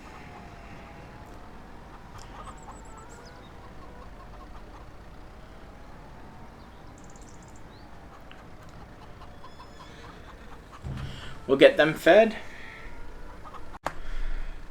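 Chickens in Farming Simulator 25 give a short flurry of clucks near the end, over a low background hum of game machinery. Someone speaks quietly earlier.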